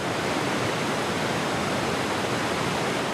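Tahquamenon Falls waterfall in a steady, dense roar of rushing water, broad and unbroken throughout, loud and close with no voices.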